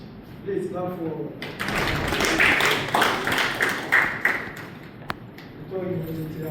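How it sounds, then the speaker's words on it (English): Applause from the audience at a university closing ceremony for a household water treatment short course, a burst of clapping swelling in the middle, with speech before and after. "Please clap for."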